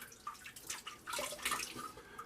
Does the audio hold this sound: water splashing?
yes